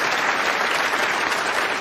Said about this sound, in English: warmly appreciated by the crowd, which contains a sizable section of her supporters